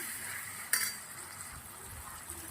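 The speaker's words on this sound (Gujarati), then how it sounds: "હવે નાખવાનું છે આપણે મસ્ત મજાનું કાશ્મીરી મરચું એક મોટી ચમચી કરીને હવે એને મિક્સ કરી દઈશું" Kashmiri chili powder is stirred into spiced oil in a pan: a soft continuous sizzle with a single sharp metallic scrape of the spoon against the pan, close and quiet, with no speech.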